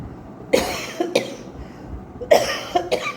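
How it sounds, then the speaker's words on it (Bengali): Four short coughs come in two pairs, close and fairly sharp, separated by brief quiet pauses. "বড্ড কাশি হয়েছে জানো তো"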